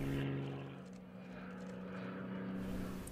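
A Serbian-built propeller reconnaissance aircraft performs at the Batajnica air show, its engine drone steady and moderately near, holding a low tonal hum throughout with no talk.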